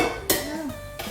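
A metal spoon knocks and scrapes inside a cooked spaghetti squash, giving two quick bright clinks and a short scrape, close and alone.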